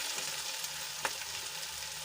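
Onions and tomatoes sizzle steadily in a hot pan, a continuous frying hiss with a faint stirring scrape partway through.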